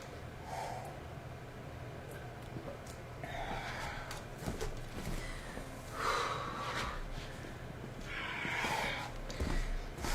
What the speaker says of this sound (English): I'm blowing my nose.